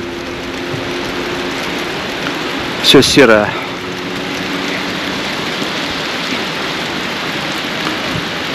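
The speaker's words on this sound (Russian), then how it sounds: "дождь может продлиться долго" Steady rain falls in Lazarevskoye, Sochi, a constant close hiss throughout, with a person briefly speaking over it midway.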